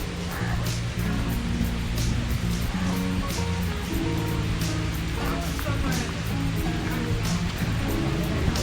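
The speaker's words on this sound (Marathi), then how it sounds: "छोटे छोटे झरे सुद्धा आहेत" Small mountain streams flow down green hillsides on the way to a hilltop temple near Mumbai, giving a continuous loud rushing, splashing wash of water with no pauses.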